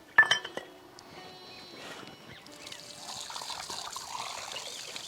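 Metal and glass dishes clink sharply a few times up close, then running water pours and trickles steadily while they are washed in a home kitchen; a voice is faintly present.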